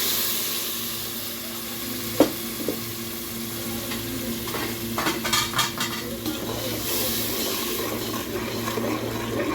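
Ground tomato and green chili frying with softened onions in a pan, a steady close sizzle with a few sharp utensil scrapes and clinks partway through.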